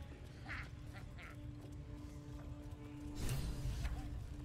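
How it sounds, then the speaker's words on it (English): A pigeon in Baldur's Gate 3 gives a few soft, short cooing calls at a low level, set against steady game ambience with a brief louder rustle near the end. "Listen to him coo."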